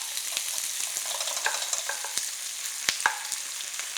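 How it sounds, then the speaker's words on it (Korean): Onion and green onion stir-fried in a pan for a spicy octopus stir-fry, giving a steady close sizzle with scattered clicks and scraping stirs, loudest near the end, with no talking. "자, 이렇게 살짝 볶아줍니다."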